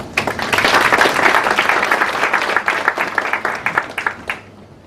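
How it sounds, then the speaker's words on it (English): Audience applause for the EU Ambassador at the launch of Kenya's National Carbon Registry, a dense round of clapping that holds steady, then thins into scattered claps before fading out. "A round of applause to Her Excellency the EU Ambassador"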